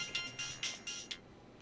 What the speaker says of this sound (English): it's actually my mom calling